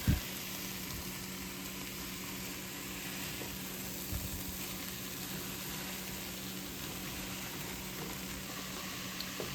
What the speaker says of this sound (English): So now you just want to saute your tofu until it gets slightly browned